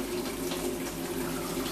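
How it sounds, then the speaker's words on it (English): Hot water runs from a sink tap in a steady, even hiss and rush, close and continuous with no pauses or talking. "So first thing I do is turn up the hot water."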